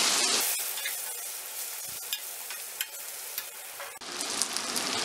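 Mango pickle mixture with garlic and green chillies stirred in a pan over a low flame: a soft steady hiss with occasional light scrapes and taps of a spoon, close and quiet.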